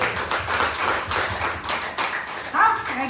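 A church congregation at a bilingual Chinese-Indonesian Sunday worship service claps together, a dense continuous patter of many hands filling the room, with a voice briefly rising over it near the end.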